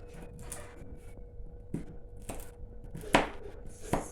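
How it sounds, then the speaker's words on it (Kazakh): A knife chops walnuts, raisins and pumpkin seeds on a board in a quiet kitchen, making irregular crisp cuts that grow sharper and louder toward the end. "Ал осы дәндерімізді майдалап турап аламыз."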